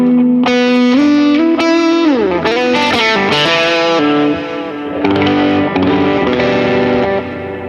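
Heavily overdriven electric guitar through a Fender Tone Master Pro with high gain, playing sustained distorted lead notes with bends and slides, loud and close, no talking.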